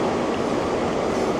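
Two diesel locomotives hauling an InterCity train give a loud, steady rumbling roar close by, a continuous wash of engine and rail noise with no speech.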